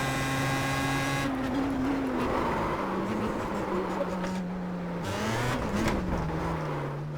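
A Star Mazda race car in the iRacing game loses grip at Homestead and spins, its engine note droning steadily, then dropping and wavering as the car slides around, loud and continuous with no talk.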